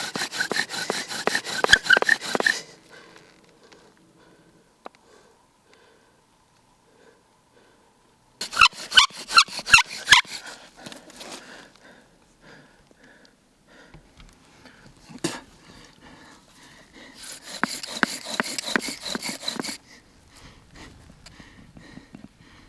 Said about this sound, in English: you restart your drilling until the first sign of smoke